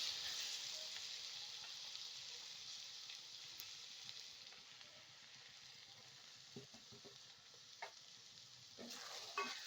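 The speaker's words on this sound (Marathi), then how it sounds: "सगळे आपले मसाले जे होते ते टाकून व्यवस्थित परतून घेणार आहे." Spices sizzling and frying in a pan for a pav bhaji, a steady close-up crackle with occasional stirring scrapes and no talk.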